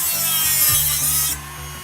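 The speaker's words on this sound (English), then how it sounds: "I started by hacking the old punch out for the fan guard first with a Dremel." A Dremel rotary tool cuts out the old punched fan guard, a bright high-pitched grinding whine with a low rumbling drone beneath that drops off near the end, close and loud with no talk.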